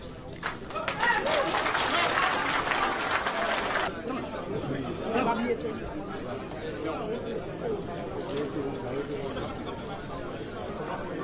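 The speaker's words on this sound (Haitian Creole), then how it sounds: "Tout nèg ou k'ap bat bravo en dedans" Crowd at a Haitian political rally applauds and cheers, a loud dense burst of clapping and voices that fades after a few seconds into ongoing crowd chatter.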